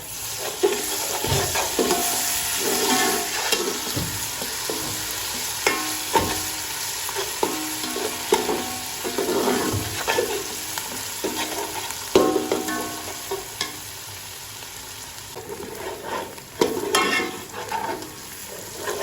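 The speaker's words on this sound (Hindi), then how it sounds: "इनको भी अच्छी तरह से हम फ्राई करेंगे इसमें" Steady sizzling of ginger garlic paste frying in a hot pan, with intermittent stirring and scraping of a utensil throughout.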